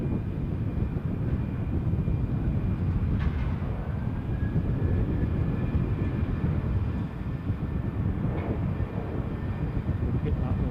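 Eurowings Airbus A320 departing Dusseldorf airport, a steady broadband jet roar rumbling at a distance for the whole stretch, with a faint engine whine running above it and no voices.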